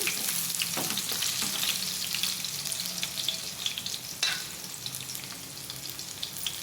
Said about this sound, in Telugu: ఇలా ఉల్లిపాయ ముక్కలు కూడా వేసుకొని ఫ్రై చేసుకోవాలి.